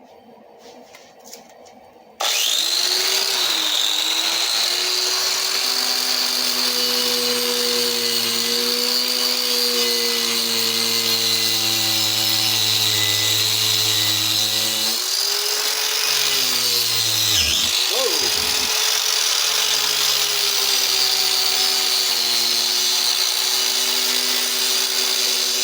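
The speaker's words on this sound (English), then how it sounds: "now we're going to the braided wheel here" A braided wire wheel on a power tool cleaning an alligator wrench. After a quiet start the motor spins up to a loud, steady whirring whine that dips and shifts briefly as the wheel bites into the metal, then carries on.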